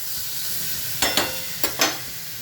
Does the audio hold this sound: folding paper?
no